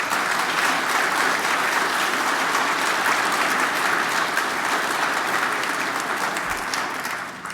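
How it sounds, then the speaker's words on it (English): An audience at a climate science conference applauds a keynote guest, producing a sustained, even wash of clapping that holds loud for several seconds before easing off at the end. "Can we give him a round of applause?"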